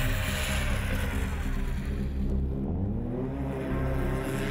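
A stock Arctic Cat F1100 Turbo snowmobile and a Speedwerx Stage 1 modified sled accelerate hard in a drag test, giving a loud, steady engine roar that climbs in pitch, with a brief shift in tone partway through.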